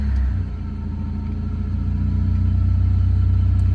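Honda Accord with 117,000 miles running after start-up: a steady, close, low engine rumble that holds even and grows slightly louder, with no voices over it.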